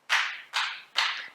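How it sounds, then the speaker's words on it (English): Children clap their hands at a library storytime: three crisp, evenly spaced claps, close and clear, with no voices in between. "can you clap your hands?"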